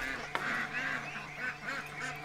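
Geese and ducks in a pen give a run of repeated nasal honks, close and fairly loud, with one sharp knock near the start.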